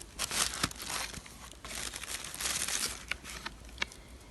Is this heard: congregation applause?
no